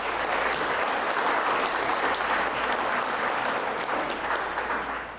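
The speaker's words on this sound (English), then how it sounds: "Let's give all these candidates a round of applause for putting their names forward." An audience gives a sustained round of applause for mayoral candidates at a town meeting, dense, even clapping that holds steady throughout and fades slightly at the end.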